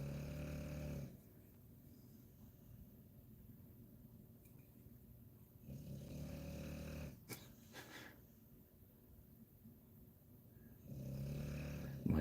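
A dog snoring in slow, steady cycles, each long rumbling breath repeating at even intervals, low and soft, with a brief sharper snort in the middle and no talking.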